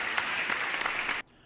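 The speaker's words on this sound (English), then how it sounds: "I need to give a round of applause to the great guitar work." A short burst of steady applause for guitar playing continues for about a second, then stops abruptly into near silence.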